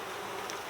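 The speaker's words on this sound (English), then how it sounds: "You hear when that drone was flying? You hear how loud it was buzzing?" A male honeybee drone buzzes loudly in flight near a hive during an inspection, a brief, steady, close drone with no talk.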